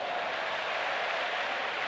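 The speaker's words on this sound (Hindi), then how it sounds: "तालियां बजाओ" An audience at a live Divya Darbar religious gathering claps in a steady, dense wash of applause that holds evenly throughout the short stretch, with no voices standing out.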